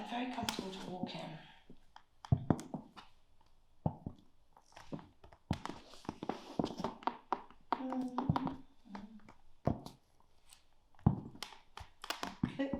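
Christian Louboutin Dolly Alta 160mm high heel pumps on a wooden floor, a series of soft, sharp heel taps in an uneven walking rhythm, close by and fairly quiet, with someone talking at the start and between steps.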